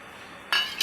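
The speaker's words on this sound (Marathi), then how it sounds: "ह्या उकळत्या पाण्यात आपण हे सोयाबीन टाकून देणार आहोत" Soybeans are dropped into a pot of boiling salted water, giving a sharp clattering splash midway and a second shorter rattle just after it, close and fairly loud over a quiet background.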